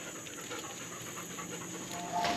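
Choco the dog pants steadily and close by on a porch in Islote, Puerto Rico, a soft continuous breathy rasp at low volume that rises slightly near the end.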